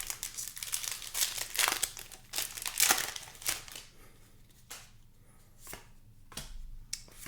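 Crinkly plastic wrapper of a Magic: The Gathering booster pack being torn open and crumpled by hand, a run of close crackling rustles that fade into a few sharp crinkles and quieter handling.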